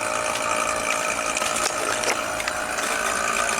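A small vacuum pump evacuating a Freightliner Classic truck's A/C system runs steadily with a buzzing, rattling drone and occasional mechanical clicks, close by and continuous.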